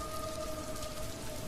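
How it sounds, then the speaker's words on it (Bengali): A downpour of heavy rain gives a faint, even wash of broadband hiss with no voices, heard as a short steady stretch. "আকাশ ভেঙে বৃষ্টি হচ্ছে এ বৃষ্টি থামার মতো কোনো লক্ষণই আমি দেখতে পাচ্ছি না"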